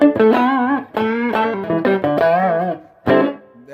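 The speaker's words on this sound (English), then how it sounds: "that's my clean tone right there" Clean-toned T-style electric guitar on the neck pickup, played through a Carvin V3 micro amp with a touch of built-in reverb: a few close, distinct notes and chords ring out alone, with a short pause before a final struck chord.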